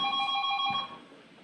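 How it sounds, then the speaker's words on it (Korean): A telephone rings with an incoming call, a close, steady electronic ring lasting about a second before cutting off and leaving quiet background noise. "전화가 오네."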